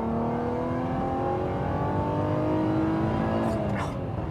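Alfa Romeo SZ engine revving hard through the gears on a muddy, slippery track, a loud continuous drone of rising and falling harmonics with brief squeals near the end.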